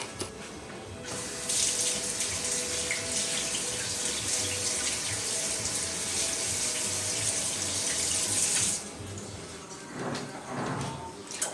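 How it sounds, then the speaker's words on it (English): Water runs steadily from a kitchen faucet over fingers being rinsed free of sticky vegetable tot mixture, a close broadband hiss lasting several seconds before the flow stops and a few drips and clunks follow. "Let me rinse my fingers off real quick."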